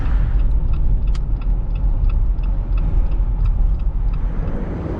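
A 2019 Jeep Wrangler cruises on the highway, a loud steady low road rumble and engine drone from inside the cabin, with a series of faint regular ticks running over it.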